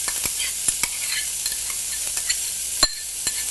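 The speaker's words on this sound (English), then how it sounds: "The wonderful sizzle." Chopped onion sizzles steadily in a hot black skillet, a bright continuous crackle with a few sharp clicks and scrapes of stirring scattered through it. No one speaks.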